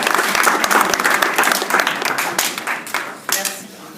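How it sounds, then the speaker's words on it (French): An audience at a comedy show applauds, a dense wash of clapping that stays loud and steady, then thins toward the end, with a voice speaking over it. "Vous pouvez les applaudir, ça les mettre à l'aise."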